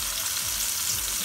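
Cod fillets fry in a pan for an Indian fish Florentine, giving a steady, close hiss of sizzling oil that holds evenly through the whole short stretch with no voices.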